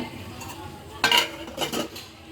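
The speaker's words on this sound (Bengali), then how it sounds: "এখন আমি ছোট্ট একটা বাটিতে বেড়ে নিব" Boiled small shrimp are spooned into a small bowl in a home kitchen. A few close metallic clinks and scrapes of a spoon against the dishware come in quick bursts over a quiet background.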